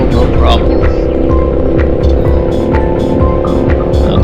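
A 2021 Triumph Trident 660 motorcycle climbing a steep hill in fifth gear, its engine droning loud and steady under heavy wind rush from close by.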